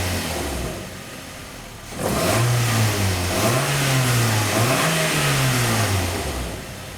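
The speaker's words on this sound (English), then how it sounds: "the new replacement catalytic converter in, you'll notice how much quieter it is." A 2010 Nissan Altima exhaust fitted with a new MagnaFlow ceramic catalytic converter, its engine idling low then revving up with a steady rising and falling drone, fairly close and alone.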